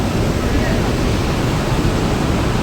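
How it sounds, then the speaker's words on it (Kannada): Water rushes steadily through the Marikanive dam channel, a loud, unbroken roar of flowing water with no pauses. "ನೋಡಿ ಮಾರಿಕಣಿವೆಯ ಚಾನಲ್ ನೀರು"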